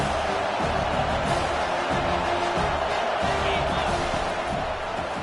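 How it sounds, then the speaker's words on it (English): A college football stadium crowd at Penn State roars in a continuous, dense wall of cheering during second down that holds steady throughout. "this crowd is turning it up a notch"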